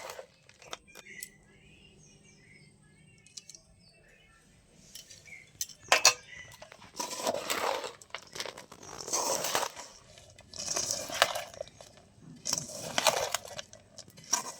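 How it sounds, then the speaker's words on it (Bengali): Puffed rice being tossed and mixed with jaggery in a pot, giving quiet clinks at first, then repeated bursts of crunchy, rustling scraping as the grains are turned over, close and moderately loud. "এখন উল্টি পাল্টি ভালো করে মিশিয়ে নিতে হবে"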